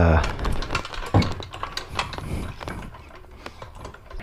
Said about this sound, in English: I'll use a floor jack